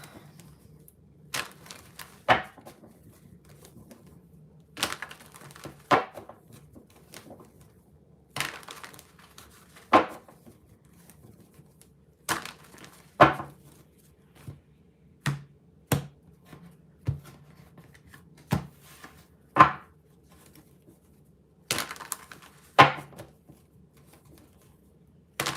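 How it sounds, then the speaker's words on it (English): A tarot deck is shuffled in separate bursts, each a sharp slap or riffle of cards followed by a pause, fairly close and with no talk. "Let me just give this deck a good shuffle."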